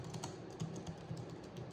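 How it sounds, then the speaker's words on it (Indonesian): Fingers type on the keyboard of an AXIOO MyBook Pro K7V laptop, a soft, close, continuous patter of quiet keystrokes. "Untuk ngetik kayaknya cukup enak untuk ngetik."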